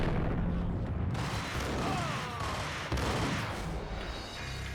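Ingram submachine gun fire crackles in Max Payne, dense overlapping bursts and booms filling the mix continuously, loud and busy with echoing impacts.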